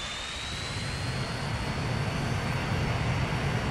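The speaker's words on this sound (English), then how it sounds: "that sound of the engines powering up is just perfect" Concorde jet engines power up in Transport Fever as a steady, loud roar and whine with a rising high tone that builds slowly, with no voices over it.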